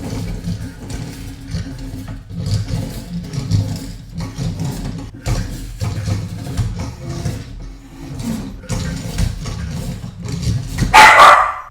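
A dog barks repeatedly in short bursts at a Slinky Dog pull toy being walked along the floor, over a steady low rumble, with a sharper, louder bark near the end.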